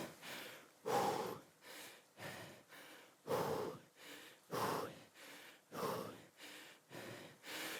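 Heavy, rhythmic breathing during recovery from an indoor cycling interval: close, loud gasping inhales and exhales in a steady cycle roughly every second, with no speech.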